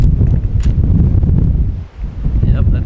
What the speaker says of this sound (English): Yep, that's wind you can hear.